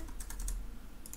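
Quick bursts of keystrokes on a computer keyboard, a cluster of four clicks followed by a pause and two more taps, close and clear.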